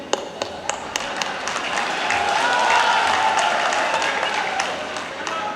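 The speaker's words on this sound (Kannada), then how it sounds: "ಅದಕ್ಕೂ ಚಪ್ಪಾಳೆ ತಟ್ಟೋದು" A crowd at a political rally in Puttur applauds during the Chief Minister's speech, a broad wash of clapping with scattered sharper hand claps rising and fading beneath a speaking voice.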